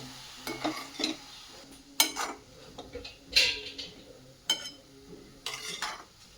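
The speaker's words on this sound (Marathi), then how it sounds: "डाळीचं पीठ घालायचं आहे म्हणजे बेसन घालायचं आहे हे परत एकदा मिक्स करून घेऊयात" Besan being stirred into radish sabzi in a pan, a spoon or spatula scraping and tapping in spaced bursts over a soft sizzle, fairly close and moderately quiet.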